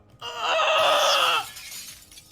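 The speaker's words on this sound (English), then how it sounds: "Glass shattering." A single glass-shattering sound effect plays loud and close, a sustained bright crash lasting about a second before tailing off into faint residue.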